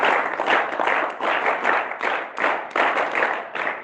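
Small audience at an Arya Veer training session clapping together, bursts of rhythmic hand claps rising and falling in short waves, close and fairly loud with no talking over it.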